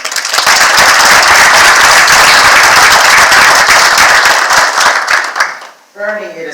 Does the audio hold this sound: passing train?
no